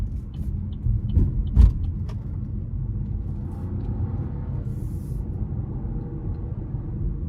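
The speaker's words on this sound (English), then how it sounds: "So of course it tends to rev higher with the manual shifts as you keep your foot down" A 2024 Chevy Trax with a 1.2-litre turbo three-cylinder engine runs in low gear, giving a steady low rumble of engine and road noise throughout, with a couple of brief knocks near the start.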